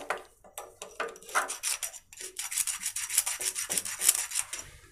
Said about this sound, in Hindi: थोड़ी देर तक हम यहाँ से घिसाएंगे और इसके बाद हम दूसरी साइड से थोड़ा सा घिसाएंगे